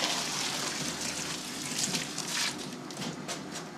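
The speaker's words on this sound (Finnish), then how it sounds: "Taas vettä sinne." Water poured in steadily while brewing sahti, a continuous splashing gush of fairly even loudness that tapers slightly near the end, with no talk.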